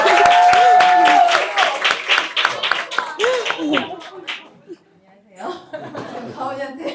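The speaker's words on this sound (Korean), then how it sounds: "박수 주세요." Audience clapping at a tenth-grade thesis presentation, a burst of applause mixed with chuckles and speech that thins out after a few seconds, followed by a quieter gap and murmuring voices.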